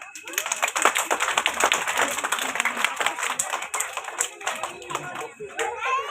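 Children at a nursery school prize-giving clap their hands in a dense, continuous patter, with an adult announcing names and prompting the clapping over it.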